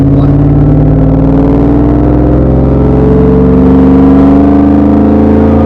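A supercharged second-generation Ford Lightning pickup truck engine roars up close, its deep rumble and whine climbing steadily in pitch as it revs, filling the whole stretch with no voices.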